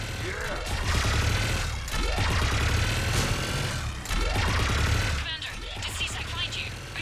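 Dense, continuous gunfire in a Mass Effect 3 shooting gallery, with rapid bursts and mechanical clatter layered over a low rumble, loud and close throughout, and a voice talking over it.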